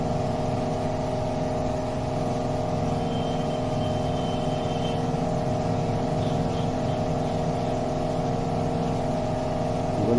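An industrial sewing machine runs steadily, stitching foam padding into a handmade school backpack, a continuous motor hum with no pauses and no talk over it.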